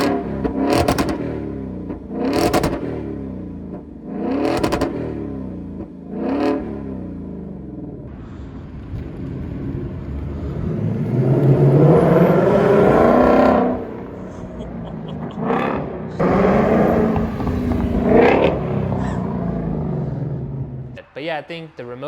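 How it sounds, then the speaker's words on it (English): A 2024 Mustang GT with resonator delete, in track mode, revs in several sharp bursts, then holds a deep growling roar that rises and falls before settling and cutting off. "Here's how it sounds in track mode with the Resonator Delete."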